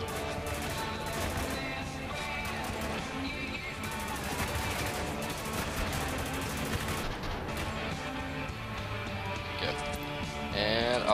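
Rapid gunfire rattles almost without pause in the shooter Spec Ops: The Line, bursts and volleys stacking into a dense, loud barrage with some crashing impacts and faint talk mixed in.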